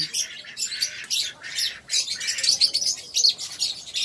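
Pet bantam chickens, a cock and a hen, giving rapid high chirps and squawks in quick bursts, close by and fairly loud, with no other sound beneath them.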